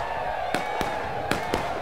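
Cannons fire in the Civil War video game War of Rights, four sharp booming reports spaced irregularly over a constant dense battlefield roar.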